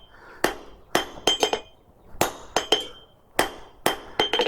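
A hammer works a hot railroad spike on an anvil while forging blacksmith tongs, striking in bright, ringing groups of quick blows with short pauses between bursts, close and clear.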